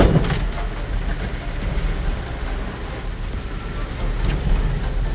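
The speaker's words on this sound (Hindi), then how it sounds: "देख सकते हो आप बारिश किस तरह आ रही है" Rain pours steadily on a truck driving through the night, a dense wash of drops hissing over the low rumble of the moving vehicle, with no voices.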